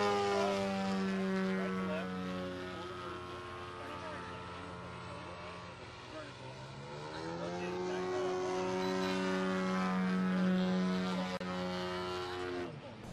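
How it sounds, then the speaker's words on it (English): An RC 3D model airplane climbs in a vertical upline, its motor giving a steady, buzzing whine that dips and then swells higher and louder as the plane climbs, heard from a moderate distance. "We're going to pull a vertical upline where we can see the canopy of the plane."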